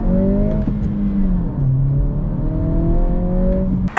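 A 2023 Acura Integra A-Spec with a manual gearbox accelerates hard, its engine note climbing in pitch, dipping at a gear change, then rising again, loud and close.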